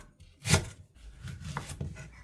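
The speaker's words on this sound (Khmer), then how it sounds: "យើងហាន់ដើមខ្ទឹមធំនេះ ចាជាចំណិតតូចៗ" A knife chops a leek into small slices on a board while Korean seafood tofu soup is being prepared: one sharp, close cut followed by a few softer taps.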